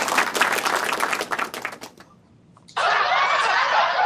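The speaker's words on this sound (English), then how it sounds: "Round of applause" Applause from a small group on a live family show, a dense patter of claps that fades to near silence before a loud burst of cheering and clapping starts abruptly.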